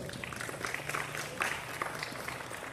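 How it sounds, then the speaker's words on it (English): Audience applause at a youth livestock show, scattered clapping from a crowd in an arena, faint and somewhat distant with light background bustle. "Let's give that young man a round of applause"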